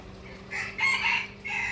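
A jungle fowl rooster at a Thai temple gives a single close crow that rises and falls, heard over a faint, steady background hum.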